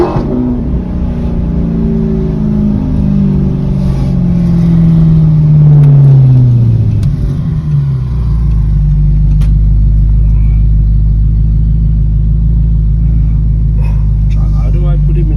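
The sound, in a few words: straight-piped Audi R8 engine revving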